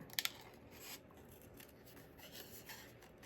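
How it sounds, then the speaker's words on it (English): Scissors snip through a stamped paper image while fussy cutting for a card, giving a few sharp close snips at the start and then soft, faint rubbing cuts that continue quietly on their own. "so I'm just going to cut this out real quick, fussy cut it"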